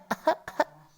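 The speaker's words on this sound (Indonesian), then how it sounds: "Neng agak batuk-batuk nih." A baby's small coughs, three or four short hoarse bursts close by in quick succession, then quiet.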